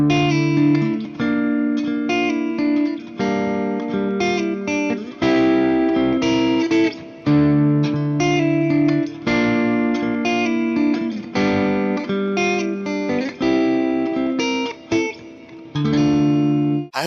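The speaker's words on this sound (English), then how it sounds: "I'll play it first with a minor chord and then with a major chord." Sustained chords played one after another on an electric instrument with distortion, first with a minor chord then a major chord, shifting in mood partway through, steady and loud with no voices.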